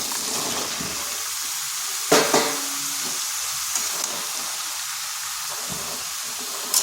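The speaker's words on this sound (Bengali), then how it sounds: "এরপর এখানে দিয়ে দিচ্ছি কেটে রাখা লাউগুলো" Cut bottle gourd pieces tossed into a pan of cooked-down spices, giving a steady hiss of frying with a few sharp clanks and scrapes of stirring.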